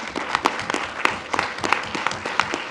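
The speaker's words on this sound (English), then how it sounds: "Let's give them a round of applause" A school board meeting audience applauds. Scattered hand claps come through clearly, some crisp and prominent, as a moderate crowd claps steadily for a few seconds.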